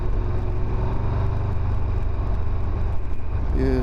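A large motorcycle, a Honda X-ADV or Triumph Tiger 1200, rolls slowly in first gear on a training road, its low steady engine drone and road noise continuous and close throughout.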